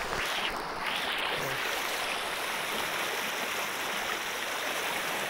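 Mountain river water in Rizal rushes in a constant, loud broadband wash, close by and uninterrupted, with no voices over it.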